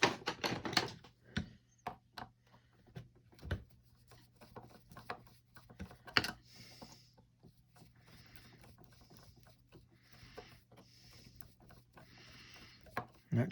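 Small metallic clicks, ratcheting and taps come from removing the handle of a Daiwa GS-90 fishing reel up close, bursts of handling noise between quiet pauses with a low steady hum underneath.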